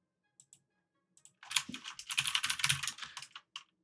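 Rapid, clattering keystrokes on a computer keyboard, close and fairly loud, in a dense burst lasting a couple of seconds, with a few isolated clicks before and after it in a quiet indoor setting.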